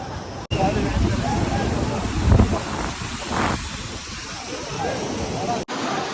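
A waterfall at Al Baha in Saudi Arabia gives a steady broadband rush of falling water mixed with wind buffeting on the microphone, while a person talks over it.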